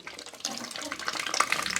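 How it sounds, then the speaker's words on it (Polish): Young pets splashing in water, a short burst of lively sloshing and splattering, close and moderately loud, with no talking. "Felusie, czy wy się wściekliście z tą wodą? Z tym chlapaniem?"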